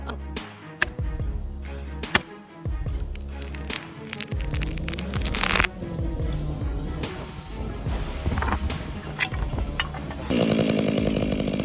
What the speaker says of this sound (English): His chainsaw bit in, and stayed there.